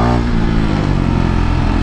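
A KTM Duke 390 motorcycle engine roars loud and close during a wheelie, a brief continuous rev with no speech.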